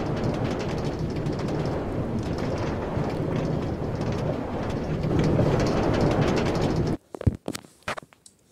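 Automated Black Mesa transit train from Half-Life rumbles along steadily, a dense continuous rolling roar that cuts off abruptly near the end, leaving a few scattered clunks and knocks.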